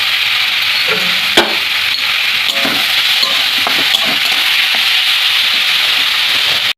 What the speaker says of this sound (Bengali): তো পাটিসাপটার জন্য আমি নারকেলটাকে ভেজে নেবো